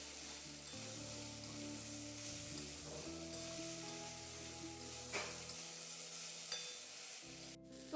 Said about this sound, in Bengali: ফ্লেমটাকে মিডিয়ামে করে কয়েক মিনিটের জন্য খুব ভালো করে এটাকে নাড়াচাড়া করে একটু কষিয়ে নিয়ে বেশ ভাজা ভাজা করে নিতে হবে